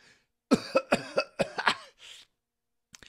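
A burst of repeated coughing, about six or seven rapid hacking coughs close up, followed by a breathy pause and a faint final cough.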